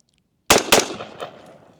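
Rifle rounds loaded with Ruag primers fired on an outdoor 50-yard range: two sharp, loud shots in quick succession after silence, with a lingering outdoor echo tail.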